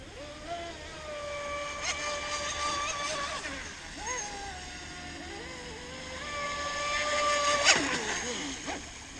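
An Outer Limits RC boat motors slowly at about quarter throttle on a lake, its electric whine holding steady tones that rise and dip, moderately distant, with occasional faint voices nearby.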